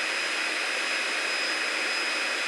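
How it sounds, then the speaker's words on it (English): Hydraulic press power pack pump running loud and steady, a continuous high whine with a broad airy roar and no breaks, close by with no talking. "That pump is kind of loud,"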